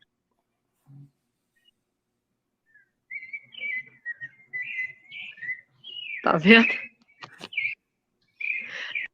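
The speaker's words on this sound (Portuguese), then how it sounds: "eu estou impressionado aqui com os passarinhos cantando aí onde você está" Small birds sing outdoors, a run of clear whistled chirps and trills in short phrases, with a brief whisper-like voice cutting in partway through.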